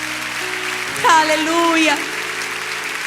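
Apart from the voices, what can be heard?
church congregation applause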